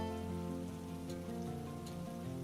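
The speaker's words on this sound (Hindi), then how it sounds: "बारिश हो रही है।" Rain falls steadily in a Hindi cartoon, a soft continuous patter and hiss running beneath a gentle background music track.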